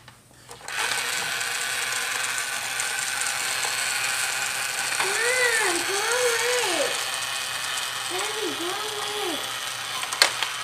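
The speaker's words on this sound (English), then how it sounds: "that white one was a vacuum. He can vacuum up balls, and he can spit out balls." A small white toy robot vacuum whirs steadily as it sucks up balls, with a ratcheting mechanical rattle and a few rising-and-falling motor whines near the end.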